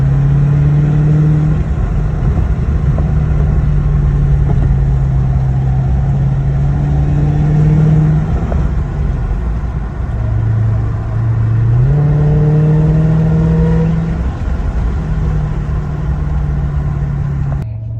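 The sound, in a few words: Dodge Hellcat car driving through corners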